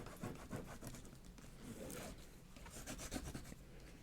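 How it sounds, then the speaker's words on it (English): Tape being pressed and rubbed down onto a paper junk journal, a faint, close scraping and rubbing texture with soft crinkly bursts, quiet and continuous. "And mush the tape down."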